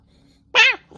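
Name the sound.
player imitating cats purring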